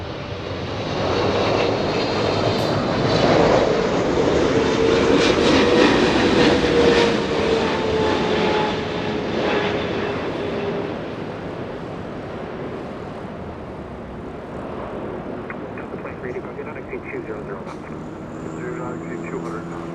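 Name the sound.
airplane taking off from runway 24 left at LAX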